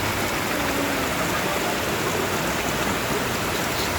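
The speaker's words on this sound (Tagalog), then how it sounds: "napaka-relaxing ng tinig ng agos ng tubig." Water from a cold spring flows in a steady, full rush of broadband noise, constant and fairly loud with no pauses and no voices.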